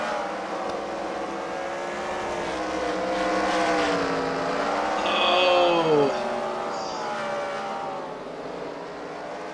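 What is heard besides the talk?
race cars at a demolition derby race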